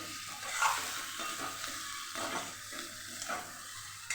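Boiled potatoes being stirred and mixed with black salt in a pan or bowl for a Bhavnagar-style snack, with soft scraping and faint sizzle-like texture running steadily for a few seconds, no voices.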